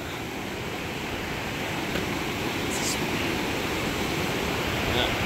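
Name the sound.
raging creek water rushing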